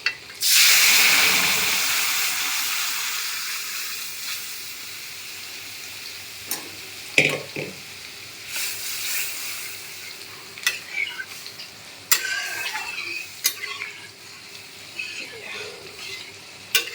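Dal tipped into a hot oiled pan with a loud initial sizzle that slowly fades, followed by scattered scraping stirs and clicks of a spoon against the pan.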